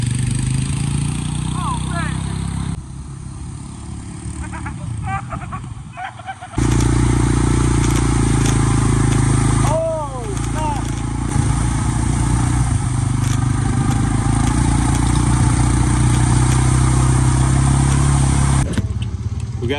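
A small cart engine runs steadily and loudly, roughly idling and straining as it dies while pulling a boat, with voices talking over it and a brief drop in level partway through.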